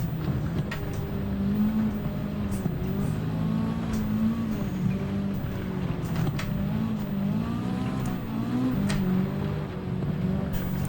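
A rally car engine in Gran Turismo 7, driven with a Fanatec shifter in sequential mode, drones steadily and close, its pitch rising and dropping with each gear change and throttle lift.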